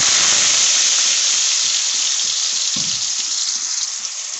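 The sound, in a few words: potatoes frying in white oil in a wok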